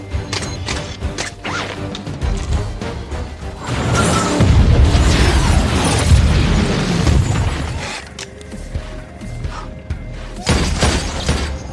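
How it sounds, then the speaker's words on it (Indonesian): A loud, sustained explosion roars and rumbles with crashing debris and shattering, surrounded by smaller bangs and mechanical clatter. "Melihat ledakan yang cukup besar di tengah kota"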